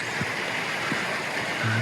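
Snowmass Creek in a Colorado mountain river basin rushes steadily and fairly close, a continuous broadband wash with gurgles, heard on its own for under two seconds.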